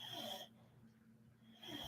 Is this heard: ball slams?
no